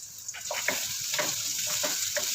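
Garlic, onion and chili sautéing in a pan, a close, steady sizzle with a few soft stirring scrapes over a short stretch.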